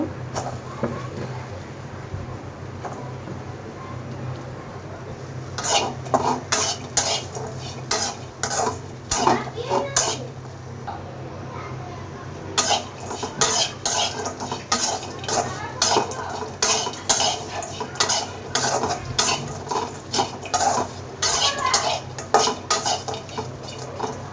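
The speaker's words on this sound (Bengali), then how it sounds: "আগে আমি শুটকিটা কাঠখোলায় ভেজে নিব" Dried fish from Cox's Bazar dry-roasting in a pan, with repeated sharp scraping and clattering stirs of a metal spoon against the pan over a soft background hiss, close and uneven in rhythm.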